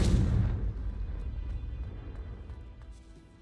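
A fiery Confringo blast spell bursts with a loud boom at the start in Hogwarts Legacy, then a rumbling tail fades away over several seconds.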